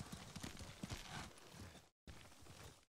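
Horse hooves clip-clop on the ground in the video game Ghost of Tsushima, a quick uneven run of close hoofbeats that breaks off briefly and then resumes.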